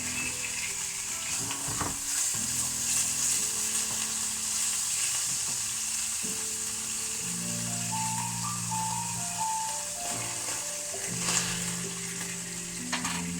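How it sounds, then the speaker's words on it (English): Onions fry in extra virgin oil in a pan with a steady, close sizzle throughout, while occasional stirring and faint musical or electronic tones sit beneath it. "all we're looking to do really is just fry some onions"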